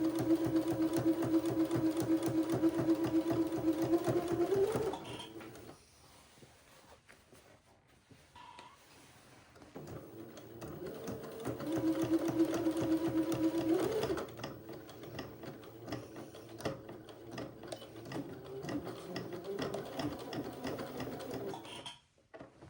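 A sewing machine stitching an Eton suit, running in two long steady bursts with a short break between, then quieter handling and fabric rustle, close and without talk.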